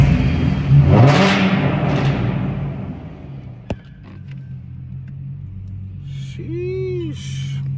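A car engine revs hard near the microphone, a loud rising roar that swells then fades, followed by a sharp click, a lower idle rumble and a brief electronic chime, with a voice talking over the start.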